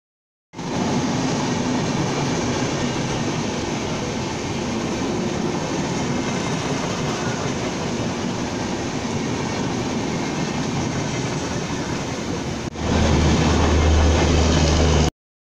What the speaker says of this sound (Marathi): आता आपली ट्रेन आली आपल्या गावाकडे निघायची